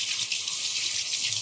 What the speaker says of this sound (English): So I'm just going to turn the water on